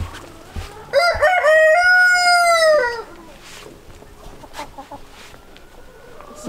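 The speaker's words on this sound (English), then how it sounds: "one of the other roosters" A rooster crows once loudly and close by, a rising then falling call lasting about two seconds, followed by softer clucks and farmyard background.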